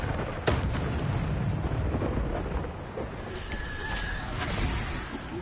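Descendo spell cast in the Hogwarts Legacy video game during combat, a loud booming impact with a sharp crash near the start over a dense rumbling roar, followed by fainter high whooshing effects.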